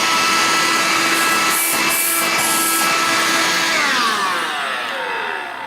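A Bissell Pet Hair Eraser cordless hand vacuum runs with a loud, steady high-pitched whine and rushing air that shifts slightly in pitch, then eases off a little near the end.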